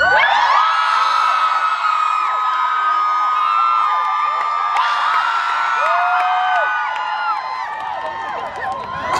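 An outdoor crowd at a daytime busking performance by the Han River shouts, whoops and cheers together, a dense, loud wall of overlapping voices that holds for the whole stretch.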